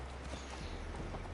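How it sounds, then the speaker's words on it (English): Steady clip-clop of horse hooves at a walking pace in the video game Assassin's Creed Valhalla, fairly close, with a low rumbling background throughout. "Here's my horse."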